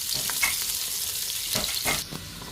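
Onions frying in hot oil for a green masala biryani, a continuous close hiss and crackle with a few spatula stirs, easing slightly near the end.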